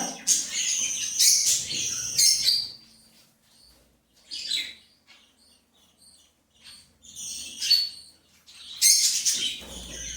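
Caged pet birds chirp and tweet in bright, high bursts, with quiet gaps between the busy stretches and no talk.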